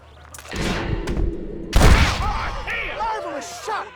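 Gunfire in the Western video game Red Dead Redemption: a burst of shots and a heavy boom, followed by rumbling echo with chirpy ambient sounds, fairly loud and close, with no talk over it.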